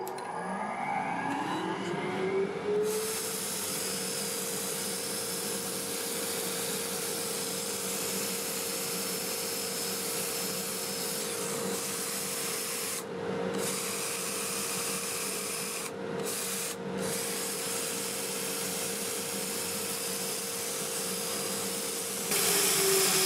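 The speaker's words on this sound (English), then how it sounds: "Alright, it's time to do some sanding." Redbud wood is sanded with 120 grit paper on a lathe running in reverse at 378 RPM, giving a steady whirring hum with a rising motor tone at the start and brief pauses as the abrasive lifts away.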